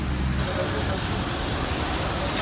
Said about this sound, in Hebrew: זה רכב 4 על 4 עם מוני יוצא עכשיו לסיום.